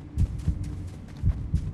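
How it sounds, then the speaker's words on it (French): Heartbeat sound effect in a Fortnite horror map: two paired low thumps near the start and another pair about a second later, loud and close with a steady background hum, no talking. "Pourquoi j'ai des battements de cœur?"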